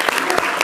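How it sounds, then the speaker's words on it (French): Audience clapping for a live caricaturist on a French studio broadcast, a dense, steady wash of applause filling the short moment with no voices on top. "donc on peut applaudir"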